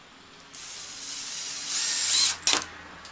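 A power drill drives small wood screws backed with washers into 4x4 lumber for a rolling workbench build, giving a close, loud high whir that rises over about two seconds, then a short ratcheting burst as it stops.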